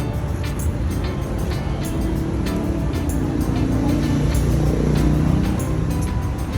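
Yamaha R15 motorcycle engine idling steadily after a full service, a continuous, fairly loud mechanical drone with no gaps and no one talking.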